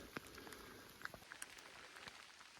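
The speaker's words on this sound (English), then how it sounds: "It is still raining." Rain on a mountain day hike near Mesa Butte in the Rockies, a soft steady patter with scattered sharper drops tapping close by, quiet and continuous, with no talking.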